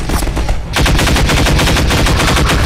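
Plasma rifle fire in the Half-Life 2 video game, a loud rapid continuous burst of automatic shots with a brief lull before the stream resumes and runs to the end.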